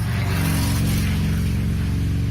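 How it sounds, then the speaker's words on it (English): A loud truck passing outside, its engine roaring steadily and close throughout with a continuous low rumble and no talking over it. "Loud truck outside, sorry."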